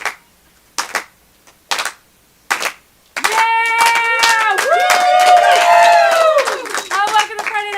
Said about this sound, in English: Please, let's start a little slow clap for me as I come to the stage.